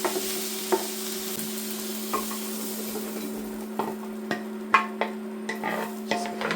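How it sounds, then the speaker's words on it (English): Fried onion, mushroom and carrot scraped from a pan into a slow cooker, with scattered scraping and clinking strokes over a low hum and faint sizzle, close, with no talking. "Onion off the pan into the slow cooker."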